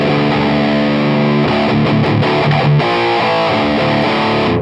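Electric guitar played through a Crate amp with the gain turned all the way up, giving a loud, saturated, chainsaw-like distorted tone. Sustained chords ring continuously with a few shifting notes, and no one speaks.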